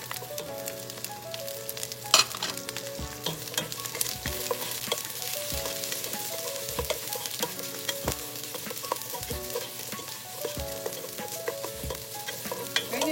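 Onions fry in a pan with a steady, continuous sizzle, joined by repeated scraping and stirring knocks from a utensil throughout. No one talks.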